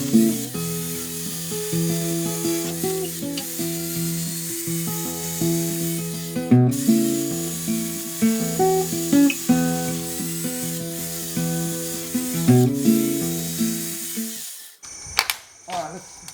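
A Makita chain mortiser cuts a mortise in wood with a steady, loud buzzing drone that swells and dips as the cut proceeds, then stops near the end; someone speaks over it.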